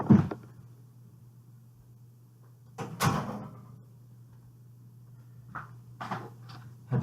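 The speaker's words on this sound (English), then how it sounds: "Had to shut my door in case we get into some conspiracy theories" A room door pushed shut indoors, with a thud and rattle at the start, then sharper clunks and a latch click a few seconds apart over a steady low hum.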